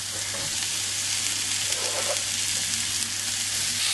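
Onions and the green tops of leeks frying in a pan for leek risotto, an even, dense sizzle with faint stirring, close and steady throughout, no voices.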